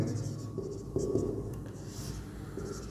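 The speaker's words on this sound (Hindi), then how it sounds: "दोनों मैट्रिक्स को लिख देता हूं मैं यहाँ" Pen scratching steadily across paper while writing out two matrices by hand, soft continuous strokes at close range with a few firmer taps, no talk.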